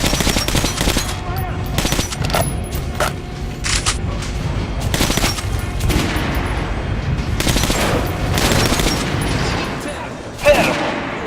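Rapid bursts of gunfire in Metro: Last Light Redux as a training dummy is shot, sharp repeated volleys of varying length separated by short gaps, loud and close, with faint game voices underneath.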